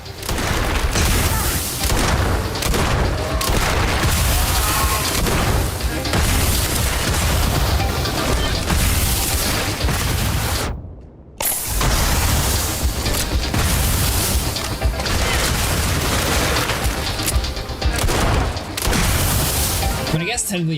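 Pistol and other gunfire in Starfield, loud and sustained across a long stretch of combat with booming impacts, broken by a brief cut near the middle, while someone talks over it.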